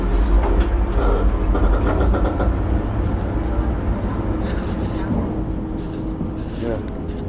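Passenger train in Israel rolling along, a steady loud rumble with rhythmic rail clatter heard from inside the coach, with people talking over it.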